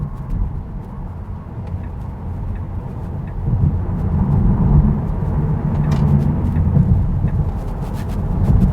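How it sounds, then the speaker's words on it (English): Tesla Model 3 electric car accelerating, heard from inside the cabin as a steady low road and wind rumble that swells gradually and grows louder toward the end, with no voices. "the moment you get on the throttle, it really does move"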